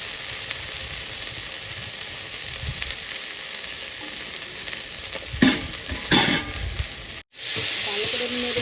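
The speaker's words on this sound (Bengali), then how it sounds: "চিংড়ি মাছগুলো এবার আমি দিয়ে দিলাম।" Prawns sizzle steadily in a pan, joined midway by louder bursts of stirring and scraping, then a brief cut before the hot frying resumes close up.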